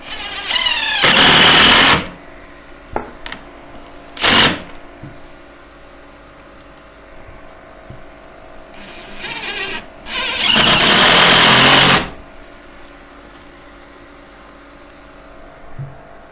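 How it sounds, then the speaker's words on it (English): A power driver sinks screws into new roof decking boards on an old watermill under repair, with several loud whirring bursts of varying length separated by pauses, the longest near the start and toward the end. "Just gotta put the screws in."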